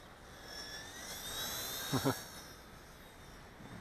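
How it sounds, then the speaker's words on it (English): A thin, whining motor hum from a WLtoys V930 Power Star X2 RC helicopter flying in wind drifts overhead with faint rising and falling tones, broken by two short low thumps near the middle. "It's tricky flying a helicopter in the wind"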